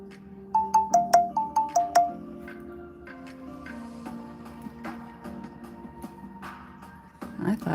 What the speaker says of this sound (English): I thought I shut off all the sounds on my phone